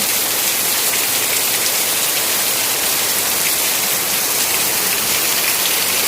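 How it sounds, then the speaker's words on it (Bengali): Heavy rain pours outside with open windows nearby, a loud, unbroken hiss of drops drumming on surfaces with no pause across the whole stretch. "কি বৃষ্টি হচ্ছে দেখছো বন্ধুরা, এত বৃষ্টি হচ্ছে"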